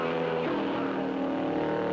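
A Gordini race car coming into the pits at Le Mans in 1952, a steady engine drone with a slight pitch drop midway, heard at moderate loudness.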